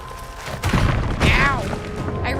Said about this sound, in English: Use flashbang.